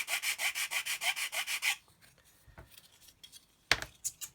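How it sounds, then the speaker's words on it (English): A plastic part from a 1/25 HobbyBoss Land Rover SWB model kit being sanded flat, a fast run of about ten loud rasping strokes, then quieter scattered scrapes and a sharp knock near the end. "So I'm just going to sand that flat."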